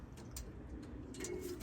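Pigeons cooing softly at a loft as young racing birds arrive home from a race, a gentle, low murmur with faint flutters, heard steadily in the near background with no talking.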